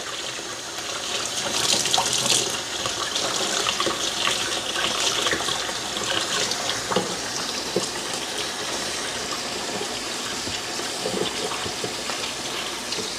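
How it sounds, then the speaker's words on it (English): Tap water runs steadily into a sink while a fork is rinsed under the stream, a continuous splashing rush with small clinks and shifts in the flow, fairly close, with no talking. "I'll wash my fork because I will use this."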